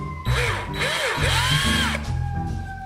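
A power drill whines up and down in pitch as it drives screws into the wooden side of a homemade game table. Several short spinning bursts come close and loud.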